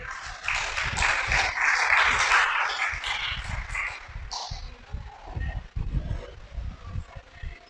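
A church congregation breaks into loud, dense applause that fills the first few seconds, then thins into scattered claps and light movement.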